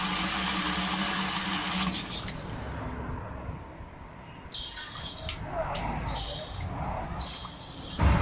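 Water runs into a solar water heater tank as it fills, a continuous watery wash with intermittent splashy trickles and gurgles, fairly close and moderately loud.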